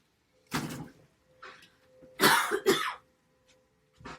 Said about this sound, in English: Talking too much and I got a cough.